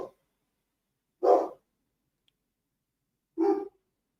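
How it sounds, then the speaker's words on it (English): Two pet dogs at home barking, with three short sharp barks spaced apart by silence, fairly close and alone without talk. "Oh, now they're both barking."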